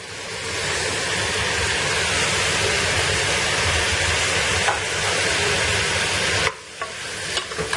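Potato cubes, cabbage and carrot stirred in a very hot pot while cooking biryani, a steady close scraping and sizzling rush that runs without a break, then thins out near the end into a few separate clinks and scrapes.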